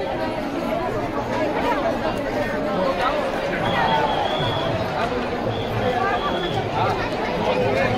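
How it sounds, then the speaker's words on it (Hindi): A dense crowd chatters steadily at Nandgaon temple, many overlapping voices forming a constant close hubbub with occasional brighter calls rising above it. "यहाँ भी खूब भयंकर भीड़ है।"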